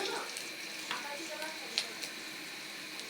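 Chopped onions fry in oil as ginger and garlic go in for a tilapia curry, giving a soft continuous sizzle with light stirring clicks and scrapes.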